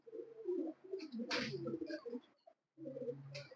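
A Teddy pigeon coos in soft, rolling, repeated phrases close by, with a short gap before the cooing resumes.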